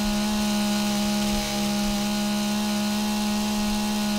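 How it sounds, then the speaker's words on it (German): Sustained chainsaw-like engine roar at full throttle from the game 7 Days to Die, a steady loud droning hum with a strong low harmonic that holds without a break and no talk over it. "als ob du eine Kettensäge anhättest und Vollgas gibst"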